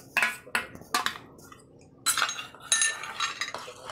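Spoon clinking and scraping against a bowl while beating a curd mixture for a Rajgira dish, several separate bursts of brisk tapping strokes, close and fairly clear with short pauses between.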